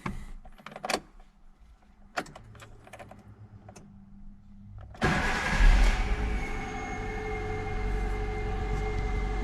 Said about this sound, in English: The engine is starting,